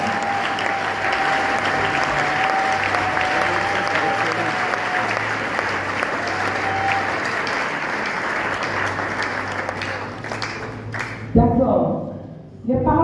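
A charismatic convention congregation applauds and cheers the Lord with sustained, dense clapping and crowd noise, then tapers off near the end. A voice carries over the crowd.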